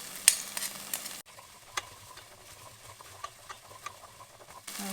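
Garlic and ginger fry gently in a pan as a wooden spoon stirs them, with soft sizzling under light scraping taps and clicks, close and fairly quiet, no talking.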